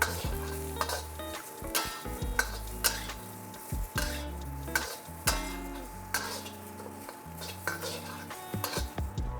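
Sweet and sour pork with a Moroccan twist searing in a hot pan, a continuous sizzle broken by frequent sharp scrapes and clanks as it is tossed and stirred, close and steady.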